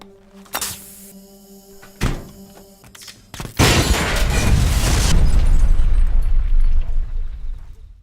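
Big blast set off by a cut gas pipe and a knife left in a running microwave: a couple of sharp thuds, then a sudden loud boom that rolls into a long, heavy roar of burning and debris before slowly fading.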